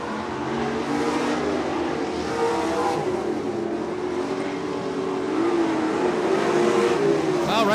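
Lightning sprint race cars run nose to tail around a track, their engines roaring continuously and swelling as they pass, with an announcer talking over the noise.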